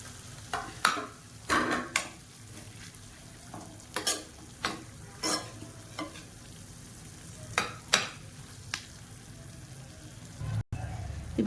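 Leftover fried chicken pieces, cut small, are stirred in a sizzling masala gravy. A spoon scrapes the pan in repeated short strokes over a low, steady frying hiss, heard close up with no talking.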